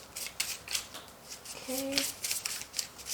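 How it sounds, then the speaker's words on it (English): Playing cards shuffled in a pick-a-card reading, repeated close crisp bursts of riffling and snapping with a short spoken word partway through. "So let me take out these again and shuffle some more."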